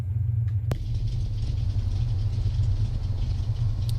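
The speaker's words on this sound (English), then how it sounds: "let's go and start the right engine" Piper Seneca II twin-engine light aircraft in the X-Plane 12 flight simulator, right engine just started: a steady, loud low rumble of a running piston engine with a sharp click near the start, no talk.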